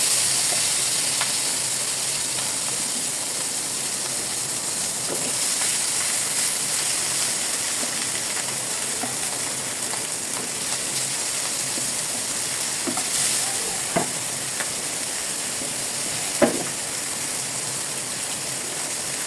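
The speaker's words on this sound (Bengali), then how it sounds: "বাকি মাছগুলো এইভাবে ভেজে নিব।" Fish frying in hot oil in a home kitchen, a continuous steady sizzle and hiss with occasional faint pops and clinks, no talking.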